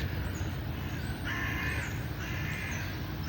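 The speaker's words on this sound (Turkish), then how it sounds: "dikkat etmişseniz martıların ve kargaların bağırması daha baskın oluyor bizim videolarımızda" Crows caw a few times over steady outdoor background noise in Gülhane Park, Istanbul, the calls moderately distant and spaced apart.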